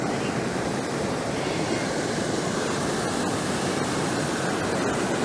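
Water rushes steadily over Yarramalong Weir on the Condamine River at a campground, a loud, continuous broadband roar that holds unbroken for the whole stretch with no other sound standing out.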